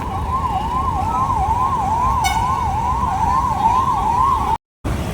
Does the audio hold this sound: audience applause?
no